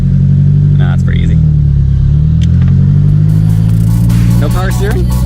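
A 1984 Nissan Skyline R30 engine drones loudly at low revs while driving, with a steady rumble and a slight pitch rise, as people talk over it from inside the car.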